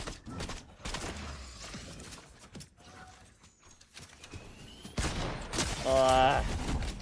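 Bursts of gunfire from a gun in a video game, mostly in a loud cluster toward the end after quieter moments, with a voice talking earlier and game sounds around the shots.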